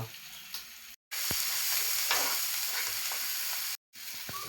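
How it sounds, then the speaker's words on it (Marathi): Freshwater crabs frying in a pan with masala, a loud continuous sizzle with scraping stirs, cut by two brief silent gaps. "आता परत या सगळा एकत्र परतून घेतला"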